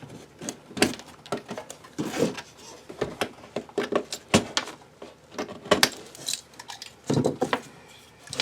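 A utility knife cuts away protruding plaster, making steady, close scraping and crunching strokes in quick, uneven bursts, with no talking.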